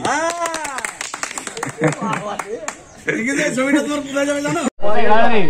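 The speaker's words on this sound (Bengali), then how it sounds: "হাততালি।" A brief burst of hand clapping near the start, set among singing and lively talk, with a loud clipped blast at the end.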